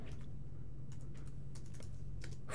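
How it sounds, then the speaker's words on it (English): A computer keyboard is typed on in short, quiet bursts of key clicks over a constant low room hum, with a louder clack at the end and no voices. "we're going to type Hunter"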